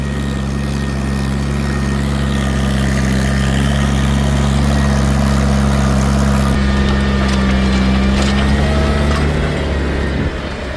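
A tractor engine idles steadily at an antique steam and gas engine society's plow day, a loud, close, low mechanical drone with a throbbing rumble that holds constant throughout, no voices over it.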